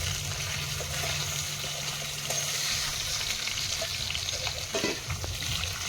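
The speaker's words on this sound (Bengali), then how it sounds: "মাছটা ভেজে নিয়েছি, তুলে নেব।" Large pieces of catla fish sizzle and crackle steadily in hot oil in a home kitchen, a close, continuous frying hiss with occasional stirring and clatter.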